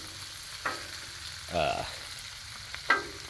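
Vegetables and onions fry on a propane-fired Blackstone griddle, a steady close sizzle broken by a few sharp spatula scrapes and clatters against the flat top.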